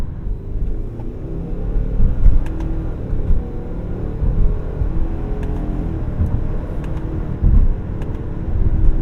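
Subaru Forester XT with a CVT accelerating in S# mode, a steady loud engine drone and road rumble heard from inside the cabin, continuous throughout with slight surges and no talking.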